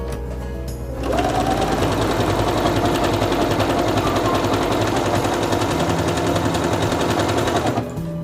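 A Singer Quantum Stylist 9960 sewing machine runs an elongated stitch at a fast, even rattle, starting abruptly after a second of quiet and stopping just before the end, loud and close, with no talk.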